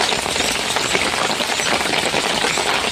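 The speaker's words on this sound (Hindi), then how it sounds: "बारिश की आवाज़ें आप सुन पा रहे होंगे" Steady rain falls continuously, a dense, even hiss of drops on surfaces near a home garden with tomato plants, loud and uninterrupted with no voices.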